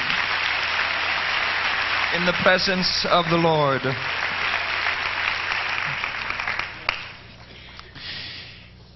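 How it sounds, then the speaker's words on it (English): A church congregation claps together at a 1991 revival service, a sustained wash of applause that a voice speaks over before it thins and fades toward the end. "Would you clap one more time and just loosen yourself"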